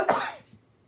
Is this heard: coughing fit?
yes